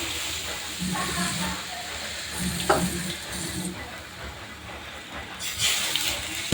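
Chili, mustard and garlic spice paste frying in browned oil in a pan, a steady close sizzling hiss with occasional stirring scrapes, rising briefly near the end.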